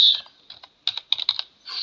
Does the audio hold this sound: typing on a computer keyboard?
yes